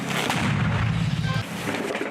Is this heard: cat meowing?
no